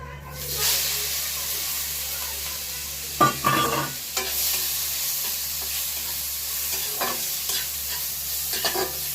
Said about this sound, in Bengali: প্রথমে আমি চিংড়ি মাছগুলো ভেজে নেব